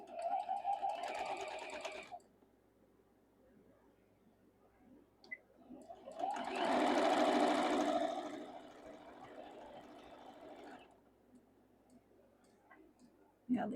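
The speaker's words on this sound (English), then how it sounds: "we're going to sew these 2 pieces together" A sewing machine joins quilt block pieces in two short bursts of whirring, one brief at the start and a longer run in the middle, separated by quiet pauses and a few clicks.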